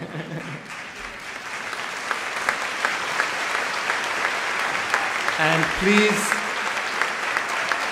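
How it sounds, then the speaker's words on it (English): A commencement audience at Chestnut Hill College breaks into sustained, dense applause that fills the hall steadily for several seconds, with brief voices and stray sounds near the middle. "please join me in applauding Sister Rita Michael Scully and the Sisters of St. Joseph"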